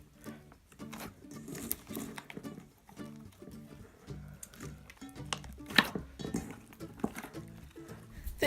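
Store-bought slimes and putties are kneaded together by hand: soft, irregular squishy pats and sticky clicks, quiet and close, over faint music.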